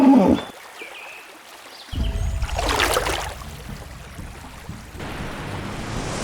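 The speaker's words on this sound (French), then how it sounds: "le vieil hippopotame émit un rugissement profond, le son résonnant dans tout le marais" A hippopotamus in a Botswana marsh gives a deep, rumbling roar that swells and resonates, mixed with broad watery noise and wind, with no voices.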